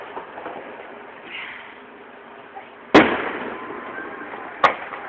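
Fireworks burst during a 2012 display: two sharp, loud bangs about two seconds apart rise over a low outdoor hiss, each trailing off in a brief rumble.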